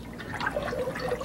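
Water mixed with sparkles is stirred in a tank, making continuous sloshing, swirling and gurgling liquid sounds at close range, with no voices.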